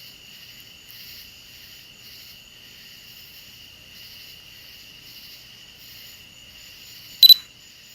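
Tree frogs call at sunset in a faint, steady high trill with soft pulsing chirps and no voices, broken by one brief sharp click near the end.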